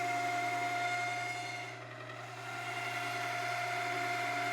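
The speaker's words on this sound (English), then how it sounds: "so I'm using a boring bar to true it up." A Logan lathe runs with a boring bar cutting the rough inner bore of a 932 bearing bronze tube, giving a steady close machine hum and whine with a brief dip midway, no voices.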